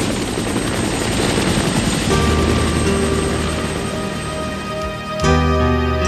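Helicopter rotors and engines thunder loudly and steadily in Vietnam War archival footage, a dense droning roar with a sharp swell near the end.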